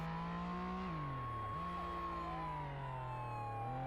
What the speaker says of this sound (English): I'm gonna kill the siren so they don't hear us coming.